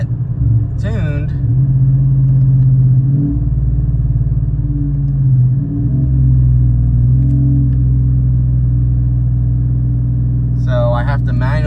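A 2019 Chevrolet Silverado truck engine rumbles loudly up close as it accelerates in manually shifted gears, the drone rising and dropping at the shifts, with brief talk at the start and end.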